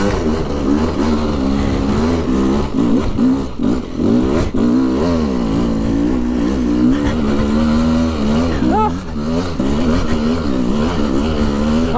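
An enduro motorcycle on Dunlop Extreme Enduro tyres rides through freezing snow and swampy ground, its engine loud and close throughout with a steady rumble and wavering revs that rise and fall as the throttle changes.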